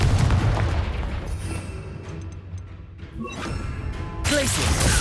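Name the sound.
Confringo/Bombarda spell explosion in Hogwarts Legacy video game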